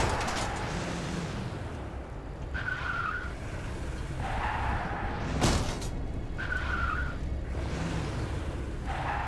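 Car tires screeching and skidding in the video game Crysis 2 Remastered, repeated squealing bursts over a steady engine and road rumble, with a sharp whoosh midway and no talk.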